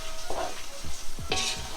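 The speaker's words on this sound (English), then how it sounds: "let it all saute properly together" Spinach chicken curry (palak chicken) fries in a pan, soft sizzling under repeated scraping stirs of a spoon, quiet and close, with no voices.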